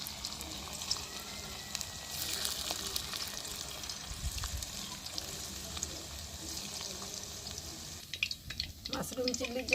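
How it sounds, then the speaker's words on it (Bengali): Mushrooms frying in hot oil in a wok for mushroom chilli, a steady close crackling sizzle with occasional stirring clatter and a louder splattering burst near the end. "দিয়ে আমি ভাজা শুরু করব"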